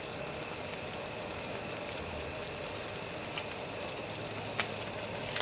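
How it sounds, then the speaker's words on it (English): Dandelion jelly at a full rolling boil in a pot gives off a steady, faint bubbling hiss, with a few light clicks from constant stirring and no talk. "here's our full rolling boil. We want to keep stirring constantly"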